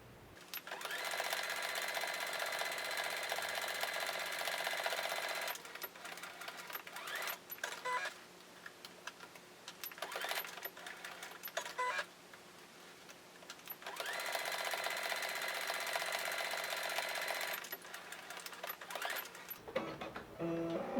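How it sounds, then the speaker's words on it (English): A sewing machine stitches a fabric face mask in two long, steady runs of rapid whirring, with a quieter pause of small clicks and fabric handling between them. "sew here until that gap for the ribbon"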